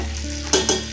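Potato fry cooking in plenty of hot oil sizzles steadily while a spoon stirs it, with two brief louder scraping bursts near the middle of a short close-up.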